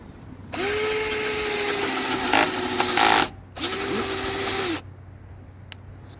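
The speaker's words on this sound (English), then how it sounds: "let's go ahead and get our drill started" A Baur 20-volt cordless drill whirs loudly and steadily at close range in two sustained runs, a longer one followed by a shorter one after a brief stop, with its motor pitch holding even.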